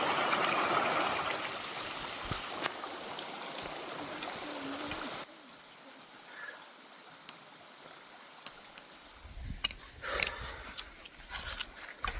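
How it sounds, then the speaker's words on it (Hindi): Water flows in a stream outdoors, a steady broadband rush that is louder at first and then drops to a softer trickle with scattered small splashes and bumps. "ऐसे नज़ारा देखो, क्या पानी चल रहा है मस्त।"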